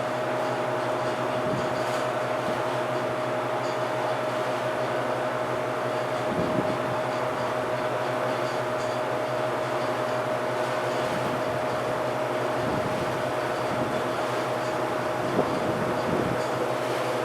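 A milling machine runs at about 600 RPM while cutting a full circle, a steady, close mechanical hum with a fixed whine and occasional faint scrapes throughout.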